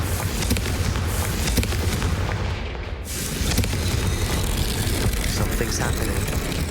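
Blasts from the Confringo fire spell in Hogwarts Legacy, booming explosions and crackling bursts over a dense rumbling fight, loud and continuous apart from a brief dip midway.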